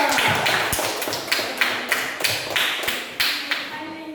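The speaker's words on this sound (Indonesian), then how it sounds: "Tepuk tangan untuk kelompok 2." A small group claps in short rhythmic bursts for a student group presenting at a teacher-training session, with evenly spaced sharp taps close by and little talk.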